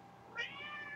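One short, soft meow from a cat, brief and slightly distant, against a quiet background.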